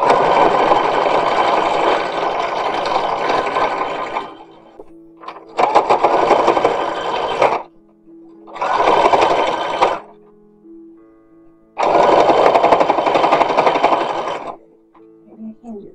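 A sewing machine stitches run-and-fell seams on an 1850s–1860s style infant shirt, running in four loud, steady bursts of several seconds each with short pauses between them.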